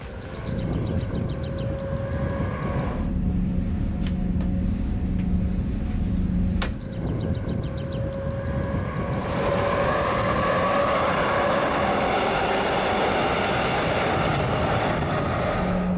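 Regional RE 19 train running on track near Sonneberg and Coburg, entering the Füllbach tunnel area and joining the high-speed line, a steady loud rolling rumble with brief high tonal squeals and a short break midway.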